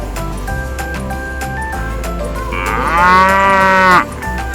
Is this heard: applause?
no